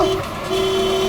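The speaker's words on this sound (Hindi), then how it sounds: "अरे क्यों हॉर्न मार रहा है?" A car horn blares in one sustained, loud, nearby honk with a brief dip partway through, standing alone without talk.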